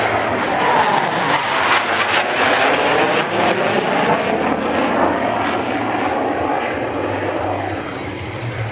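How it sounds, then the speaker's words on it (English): An F-35B stealth fighter jet at the Iwakuni air show passes with its weapons bay doors open, a loud, continuous engine roar that stays strong throughout and eases slightly at the end. "兵器格納ドアを開けて通過する様子をご覧ください"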